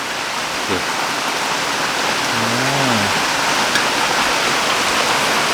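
Steady, dense rain hisses close by throughout, loud and unbroken, with a short faint tonal sweep partway in.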